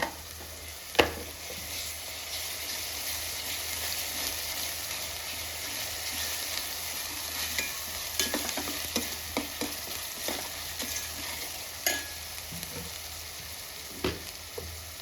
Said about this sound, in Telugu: కొంచెం పసుపు కొంచెం పచ్చివాసన పై నూనె పైకి వచ్చేంత వరకు ఫ్రై చేసుకోవాలి